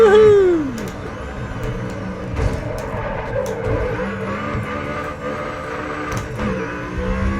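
Race car engine in Grid Autosport revving loudly with a sweeping pitch drop at the start, then a sustained roar punctuated by gear-change bursts, continuous and up close with no talk.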